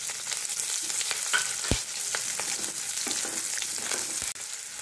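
Onions, curry leaves and green chili fry in a pan for Maggi upma, a loud, constant close sizzle with scattered crackles and a few clinks of stirring.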